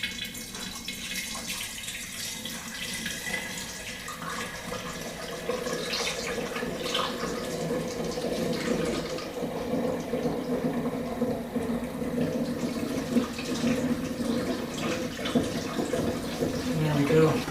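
Home-brewed all-grain IPA, a one-gallon batch, pours steadily into a container, a continuous gurgling, splashing flow that grows fuller over time and carries on without pause.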